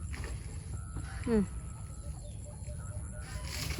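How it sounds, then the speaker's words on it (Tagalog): Chickens on a farm, a short cluck or squawk rising out of quiet outdoor ambience with a steady hum, a few faint chirps scattered around it and people talking softly nearby. "Nandyan na ang manok."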